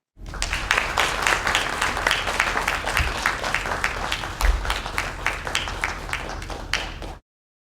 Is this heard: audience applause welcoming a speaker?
yes